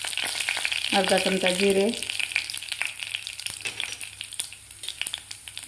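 Mustard seeds and cumin fry in hot oil with a crackling, popping sizzle throughout; someone speaks briefly near the start.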